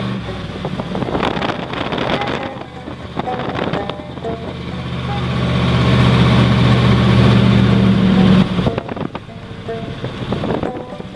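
A 1955 Ford wagon engine runs steadily throughout, a low droning rumble close by that swells louder in the middle as if revved, then settles back to an idle, with wind buffeting the microphone.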